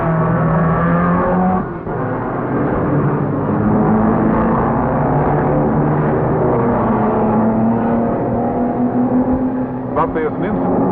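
Several 1965 Formula 1 race cars pull away from the start of the New Zealand Grand Prix at Pukekohe Park, a loud sustained engine drone whose pitch climbs steadily, with a brief gap in the noise near the start.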